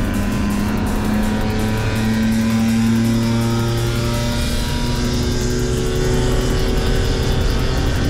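Race cars at a 24-hour endurance race, heard as a loud, continuous engine roar with several motors droning and shifting pitch as they pass close by.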